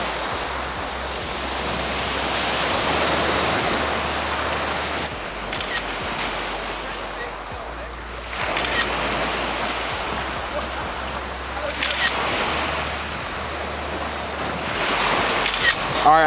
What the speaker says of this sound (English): these waves ain't no joke